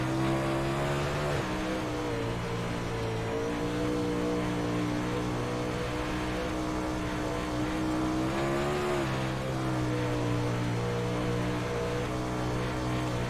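Race car lapping Eldora Speedway dirt oval during the Eldora 100, heard onboard: a loud, constant engine drone that rises and falls through the turns, with no talk.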